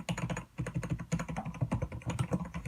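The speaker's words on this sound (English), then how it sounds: "if I pretend type on it, only the space bar is kind of loud." Someone pretend-types on a new gaming keyboard, giving a close, loud run of quick plastic key clacks in an uneven rhythm with a brief pause early on; a few keys, such as the space bar, sound louder.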